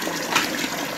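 Water runs and splashes steadily while cooked beans are washed in a kitchen, a continuous gushing rush with a brief louder surge midway, no voices.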